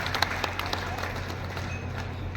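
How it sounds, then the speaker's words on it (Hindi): A crowd at a BJP election rally in Udaipurwati claps to welcome a Lok Sabha candidate, with a burst of sharp, scattered handclaps up front thinning into a steady, moderate patter over a low background hum. "जोरदार तालियों से इनका स्वागत करिए"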